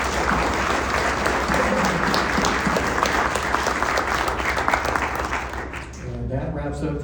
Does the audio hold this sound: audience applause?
yes